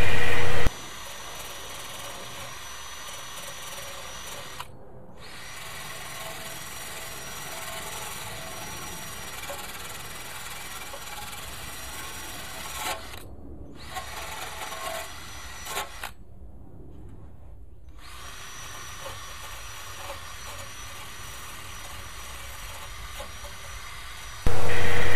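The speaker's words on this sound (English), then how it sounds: "Here I switched to the wire brush connected to the drill" A wire brush spinning on a power drill scrubs the metal of a snowblower, a continuous loud grinding whir with a few short pauses and clean starts and stops at both ends.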